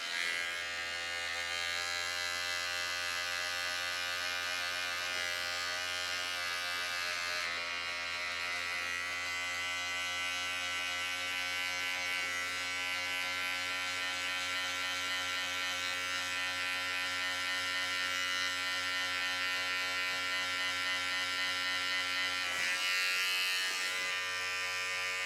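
An electric hair clipper with its blade lever set open runs steadily while cutting a low taper guideline in a self haircut, a close, continuous bright buzz with strong harmonic hum that barely changes for the whole stretch.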